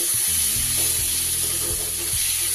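Washed barnyard millet and lentils hiss and sizzle loudly in a hot pan, with a steady frying hiss and a few low scraping strokes as they are stirred together.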